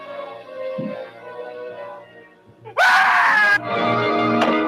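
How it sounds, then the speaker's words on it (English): Screaming from the 1958 horror film Terror in the Haunted House: a loud, sustained shriek bursts in near the three-second mark and continues into a second scream, following quieter tense orchestral music. "people just love to scream in this movie"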